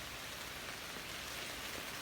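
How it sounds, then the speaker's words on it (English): Steady outdoor rain falling in a garden, building in intensity, with a continuous even hiss of drops on surfaces and no one speaking. "probably hear it raining now. It's starting to pick up"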